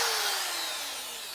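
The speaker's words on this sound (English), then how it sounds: "I drilled into the wood" A power drill drills into a piece of scrap wood in one continuous high whine with a slowly falling pitch, close and steady and with no talk over it.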